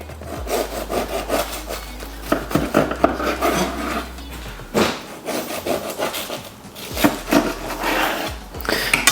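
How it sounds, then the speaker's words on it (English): Sharp bread knife sawing through fish finger sandwiches skewered with sticks, repeated close, rasping back-and-forth strokes through crusty bread in several rough bursts with short pauses between cuts. "Grab a nice sharp bread knife and then just cut between sticks."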